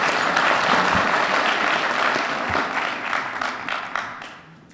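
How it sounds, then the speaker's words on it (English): Audience applause at a school district reading room dedication, a dense wash of clapping that holds steady, then thins and fades toward the end. "Round of applause, please."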